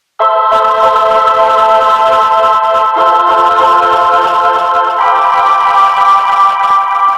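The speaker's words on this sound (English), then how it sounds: "here's the Voice Choir without the tape delay" A Mellotron Voice Choir holds steady synthetic chords without tape delay, no echo trailing off, the harmony shifting partway through and ringing loud and continuous.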